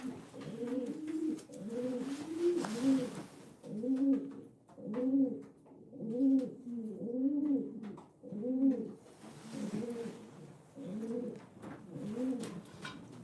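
Racing pigeons in a loft coo steadily in repeated rolling phrases, close and fairly loud, with soft rustling behind them and no talking.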